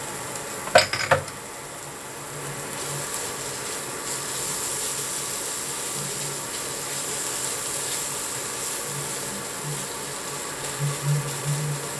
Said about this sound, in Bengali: একটু কিছুক্ষণ নাড়াচাড়া করব পনিরটা দেওয়ার পরে।